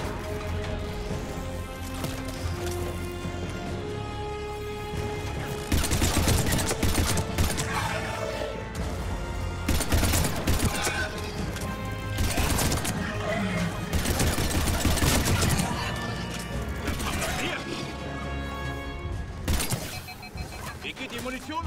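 Gunfire bursts from the Mass Effect 3 video game, loud and dense, with rapid fire over a steady game soundtrack, growing heavier midway and recurring in waves.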